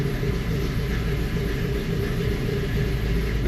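A car engine idles with a steady low rumble and faint mechanical hum, even and unbroken, no talking.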